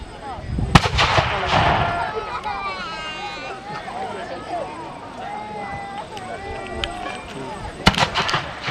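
Musket volleys and artillery fire crack and boom at a history festival battle reenactment. There is a loud blast near the start and another cluster near the end, with crowd noise and talking in between.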